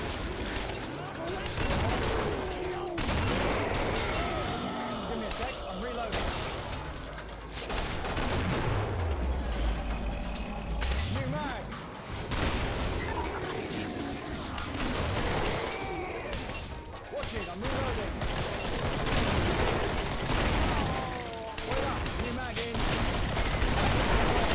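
Rapid 9mm pistol fire is spammed in the video game Killing Floor, a steady, dense stream of shots under constant game noise and chatter, with voices talking over it.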